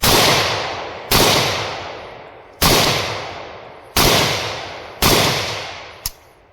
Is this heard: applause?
no